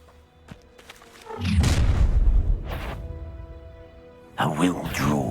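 A Confringo fire spell detonates in Hogwarts Legacy with a loud, roaring burst and rumbling tail, followed by a second sharp impact as combat continues.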